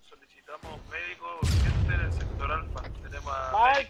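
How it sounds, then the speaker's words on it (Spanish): Gunfire from the military shooter ArmA 3: a sharp blast followed by sustained rumbling low-end reports, mixed under overlapping radio-style voices talking throughout. "¡Alto esos tiros! Están disparando muy abajo."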